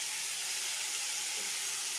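Cauliflower deep-frying in plenty of white oil in a kadai, a steady, bright, close hiss of bubbling oil holding even throughout without pauses.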